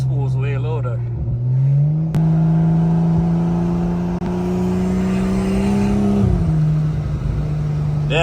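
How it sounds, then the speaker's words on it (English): Big-turbo BMW 535i making 640 whp, heard from inside while driving, with a loud, rising turbo whine and steady engine drone that climbs, holds, then drops off, close and continuous. "y'all could hear the turbo spools way louder"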